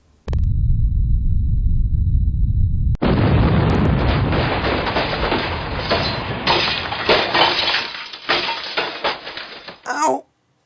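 A bomb in a detective video game goes off with a sudden loud blast and a heavy rumble. A sharp burst follows, debris crashes and crackles for several seconds, and the sound fades into a final brief noisy burst.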